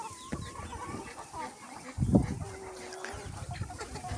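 Young chickens cluck and peep close by in a small enclosure, with scattered calls and a louder burst of clucking in the middle.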